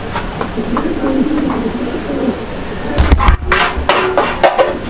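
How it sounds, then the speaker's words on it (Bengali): Danish pigeons cooing at a pigeon market, soft repeated coos up close over a bustling background, with louder clatter and movement in the second half. "এগুলো হলো ডেনিশ কবুতর"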